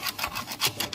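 Short rasping strokes of sanding or filing on a repair point during a cold-storage refrigeration leak fix, several rhythmic scrapes close to the mic with no talking.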